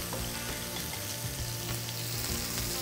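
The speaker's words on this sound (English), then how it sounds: "So I'm gonna go ahead and take our steak. We're gonna put it in." Loud, steady sizzling of strip steak searing in a hot cast iron pan, a dense crackling hiss with occasional pops, close up and without any talking.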